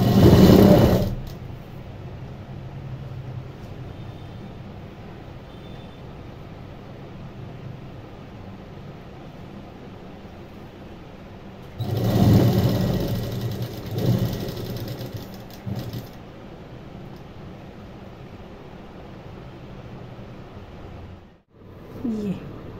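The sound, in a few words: sewing machine stitching a kurti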